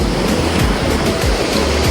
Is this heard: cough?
no